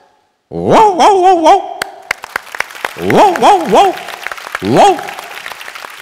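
On stage, a performer's voice imitates a dog with a string of barks and whimpering yelps in three bursts, loud and close, while audience applause and noise run underneath.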